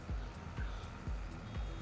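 Truck reversing alarm in Farming Simulator 22, steady repeated beeps at an even rhythm over a low engine rumble, moderately quiet in the mix.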